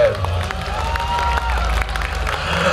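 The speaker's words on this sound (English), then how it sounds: "big applause to them." Audience applause after an iaido sword-art performance at a festival, steady clapping and crowd noise throughout, with a voice speaking over it.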